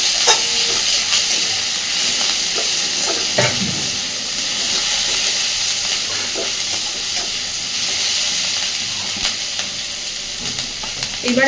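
Chopped onion and slit green chillies fry loudly in a pan with a steady, dense sizzle and hiss, broken by occasional scrapes and stirring knocks.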